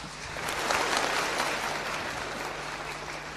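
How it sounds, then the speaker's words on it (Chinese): Theatre audience at a Chinese opera awards ceremony applauding three best-newcomer prize winners as they walk on stage, a steady, fairly loud burst of clapping that swells early then holds evenly. "我们掌声欢迎他们3位上场。"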